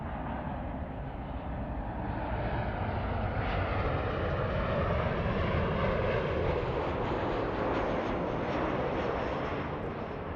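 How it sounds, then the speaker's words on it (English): Delta Air Lines Airbus A350 arriving at LAX from Haneda, a steady broad jet roar that swells gradually as it draws nearer, with no voices over it. "So this A350, we're looking at Delta 8 flying in from Haneda"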